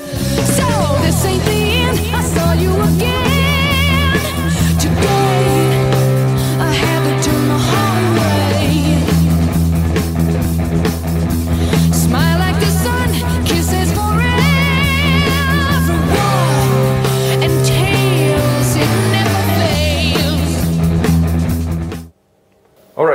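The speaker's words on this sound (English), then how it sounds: "So during the verses, we have two guitars again playing same riff" Electric guitar plays the verse riff of a song, a loud, driving, distorted pattern of chugging low notes with melodic fills, repeating steadily for about twenty seconds before cutting off abruptly.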